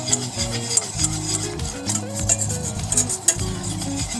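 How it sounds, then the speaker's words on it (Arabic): Flour stirred in a pot to toast it as a base for creamy chicken soup: close scraping and stirring strokes, with soft clicks of the utensil against the pot and a faint sizzle underneath. "هفضل اقلب فيها بس شويه لغايه لما يتحمص معايا الدقيق"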